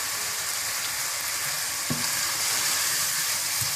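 Fried chicken for a degi chicken biryani being mixed with turmeric, salt and kewra water in a hot pot, a dense, loud, steady sizzle with a couple of faint utensil knocks, no voices.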